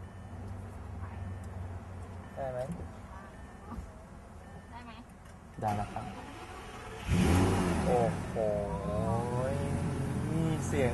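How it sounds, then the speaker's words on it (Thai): A car engine turns over and roars to life partway through, then keeps running loudly while people talk over it. "ลองคลิกลองสตาร์ทเครื่อง บิดกุญแจได้เลยครับ"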